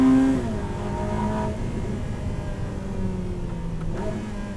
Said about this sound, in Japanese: アクセル踏んでみましょうか。